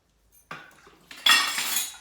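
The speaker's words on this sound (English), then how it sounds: "I'm gonna put my dirty utensils in the sink" Dirty cutlery and utensils are dropped into a kitchen sink, giving a quick sequence of metallic clatters and clinks that grows louder toward the end.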